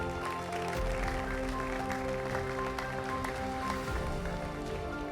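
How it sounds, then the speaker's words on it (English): An audience applauds six contestants at an Ogun State quiz competition semi-final, steady clapping throughout with a tonal hum underneath. "A round of applause for them."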